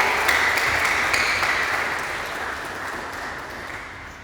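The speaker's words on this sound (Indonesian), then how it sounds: "Berikan tepuk tangan yang meriah." Lively audience applause at a role-play presidential inauguration ceremony in an Indonesian classroom setting, a dense burst of clapping that starts strong and gradually fades over a few seconds.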